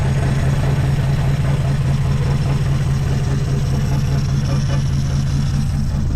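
A 1963 Plymouth Belvedere's engine, restarted after sitting since 1978, idles with a steady, low rumble without a break, loud and close, with no talking over it.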